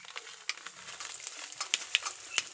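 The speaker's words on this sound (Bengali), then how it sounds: "পরে সর্ষের তেল গরম করতে দিয়ে দিয়েছি, একটু 5 ফোড়ন দেব, ফোড়ন আর দেব কটা তেজপাতা ফোড়নে" Whole spices and bay leaves crackle and sizzle in hot mustard oil for a pickle, a steady frying hiss broken by sharp pops and spits, close by with no voices.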